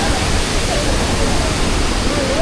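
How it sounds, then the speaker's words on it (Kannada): Mallalli waterfall in Coorg during the monsoon roars at close range, a dense, steady rush of splashing water filling the whole scene without a break. "ನೀರು ಮಾತ್ರ ಸರಿ ಸಿಡಿತಿದೆ ಇಲ್ಲಿ."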